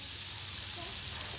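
Thin seasoned cheesesteak meat sizzling on a Blackstone 28-inch griddle, a steady, loud broadband hiss filling the whole short moment without pause.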